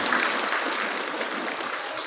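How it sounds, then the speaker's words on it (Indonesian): Students and guests applaud at a school Independence Day ceremony, a broad, continuous patter of many hands at moderate volume throughout. "Beri tepuk tangan yang meriah."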